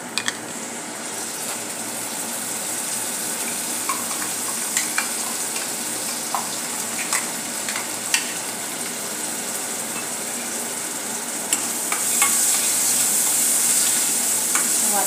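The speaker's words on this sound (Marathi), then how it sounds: "वाटण चांगले परतून घेऊया।" Ground masala paste with asafoetida sautéing in a pan for a drumstick and potato dish, a continuous close sizzle with scattered spits and crackles that grows slightly louder toward the end.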